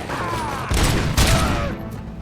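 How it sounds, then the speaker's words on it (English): Gunshots in the game RoboCop: Rogue City come as two heavy, booming blasts in quick succession, dense and close, over a continuous backdrop of game sound with no talking. "She shot him like 5 times."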